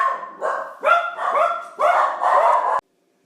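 A dog barks in a quick burst of about four to five close, loud yaps with a whiny edge, ending abruptly and followed by silence.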